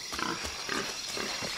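A pig in the Shadow of the Tomb Raider video game gives several rough, close grunting oinks in a loose rhythm over a steady game background, with no talking.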